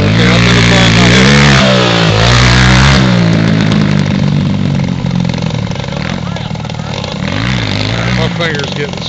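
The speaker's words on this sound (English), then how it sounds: "That's Brenton on his little practice ghetto quad" A small, rough practice quad bike revs hard, its engine rising and falling in loud bursts while a voice talks over it.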